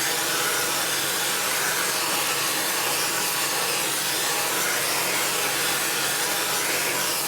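A brazing torch flame roars steadily as it heats metal, a constant, loud, broadband hiss running unbroken throughout with no voices.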